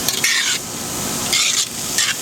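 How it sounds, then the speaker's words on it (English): Cauliflower fried rice with frozen peas cooked over an open fire, loud close sizzling under three scraping stir strokes against the pan. "Give that a stir."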